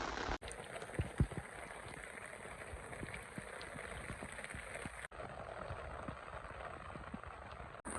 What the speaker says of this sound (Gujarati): વરસાદ ક્યારનો ચાલુ છે અત્યારે થોડોક ધીમો પડ્યો છે